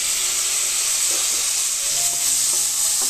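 Chopped onions hiss and sizzle steadily in hot oil in a wok, with sweet green chilies, a continuous bright frying crackle with a few soft stirring knocks, loud and close with no voices.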